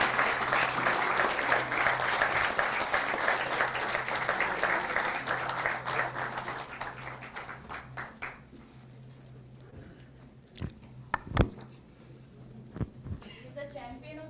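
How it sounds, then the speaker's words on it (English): Audience applause for heroes called on stage at a yoga leadership and entrepreneurship event, a dense sustained clapping wash that fades out midway, followed by a few scattered thumps and quieter room noise. "Louder claps."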